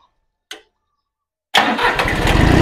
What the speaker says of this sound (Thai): นะครับเครื่องติดง่ายครับ